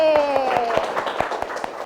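A classroom of students claps a rhythmic 'tepuk semangat' chant during a teaching practice lesson, a short run of evenly spaced sharp claps heard under a speaking voice.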